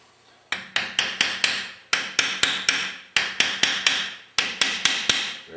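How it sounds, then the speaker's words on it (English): A hammer taps a part onto a Meyer E-60 pump during a rebuild: sharp, close metallic knocks in quick bursts of four to six blows with short pauses between groups. "Very gently with the hammer."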